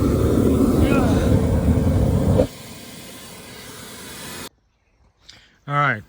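A 2 megawatt oxygen-lance rotary kiln burner roars loudly in a broad, dense rush, drops to a lower steady roar, then cuts out abruptly, leaving near-silence before someone briefly speaks.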